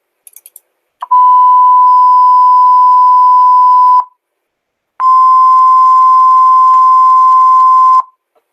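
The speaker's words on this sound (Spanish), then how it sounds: "Un tono a 1000 Hz y otro tono a 1032 Hz." Two steady pure test tones, one at 1000 Hz and another at 1032 Hz, each sounding alone for about three seconds with a silent gap between them, loud and clean like electronic beeps.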